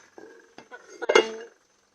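A metal lid goes onto a cooking pot of chicken neck adobo with a few light clinks and one louder ringing clatter as it settles, followed by quiet.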